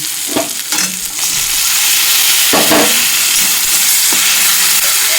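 Tomatoes are sautéed with coriander paste for a spicy egg curry in a pan, giving a loud, steady sizzle and hiss close up, with a few stirring scrapes early on.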